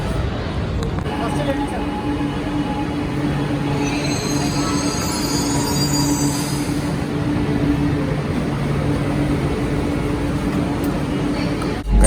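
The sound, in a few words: metro train running on the blue line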